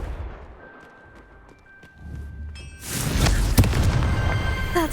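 A Confringo fire spell explodes in Hogwarts Legacy: a sudden loud blast near the three-second mark swells into a roaring, crackling burst with sharp cracks, after a quieter stretch of ambient game sound.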